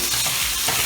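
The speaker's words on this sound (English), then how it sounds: "I'm just going to sprinkle a little bit more soy sauce, a couple of drops. Cooking that steak." Steak dusted with cornstarch and a few drops of soy sauce sizzles in a hot pan for beef fried rice, a loud close crackle with brief scraping stirs.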